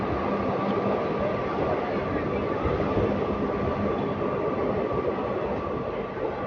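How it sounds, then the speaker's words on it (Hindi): A local train arriving at Malad station on Mumbai's suburban line, a steady loud rumble and hum of rolling stock with no break over several seconds, faint voices underneath. "मलाड पे कोई एक लोकल ट्रेन भी आई है भाई साहब।"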